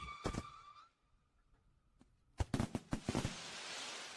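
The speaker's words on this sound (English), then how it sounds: "Have you ever seen a daytime firework?" Daytime fireworks in the film The Electric State: a sharp bang, a quiet gap, then a rapid cluster of loud crackling pops and bursts fading into a noisy wash.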